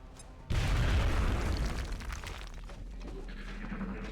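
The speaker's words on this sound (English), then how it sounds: "Throwing grenade" A grenade explodes in the video game XCOM: Enemy Unknown: a sudden loud, booming blast with shattering debris that rumbles on and slowly fades over several seconds. No one speaks.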